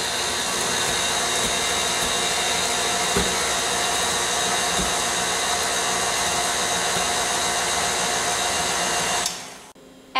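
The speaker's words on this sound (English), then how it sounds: "Now on the stir setting, let's go ahead and incorporate our pumpkin puree." An electric mixer on its stir setting whirs steadily while folding pumpkin puree into quick-bread batter, a continuous close motor drone that cuts out abruptly near the end.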